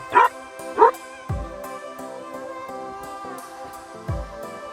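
Several dogs bark and yip in short, separate bursts, some sharp and some whining, fairly close with quiet gaps between.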